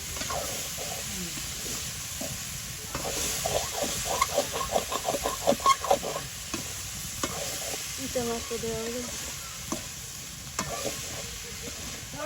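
Small river fish sauté with greens and spices in a pan, a soft sizzle under a run of rapid close scraping stirs, then quieter stirring and faint background sounds.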